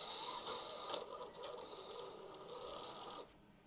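An embroidery machine fitted with a magnetic hoop runs stitching onto a beanie or jacket, producing a steady, quiet mechanical whirr and rapid ratcheting clatter that cuts off near the end.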